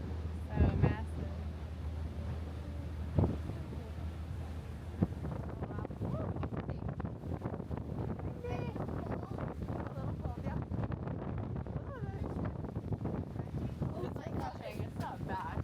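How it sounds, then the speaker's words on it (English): Strong wind at a mountain viewpoint in Alaska, buffeting and rumbling against the microphone in gusts, with people talking and exclaiming nearby. "so windy"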